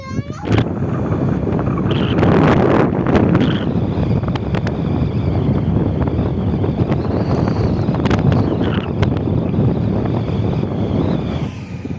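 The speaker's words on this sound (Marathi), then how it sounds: "आज वारा पण भरपूर सुटलाय." Strong wind buffets the microphone with a steady loud roar on the Mumbai–Goa highway, while a voice talks underneath.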